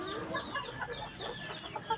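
A flock of chickens clucking and murmuring close by, soft overlapping calls with a few sharper squawks, no talking.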